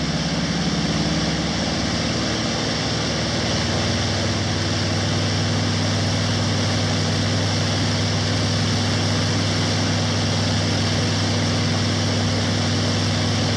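A British Bristol Hercules sleeve-valve radial aircraft engine runs at a museum demonstration, a loud, continuous pulsing drone holding steady throughout with no voices over it.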